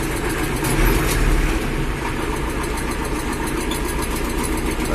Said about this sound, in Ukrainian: йду з культиватором оберти двигуна десь в районі 1300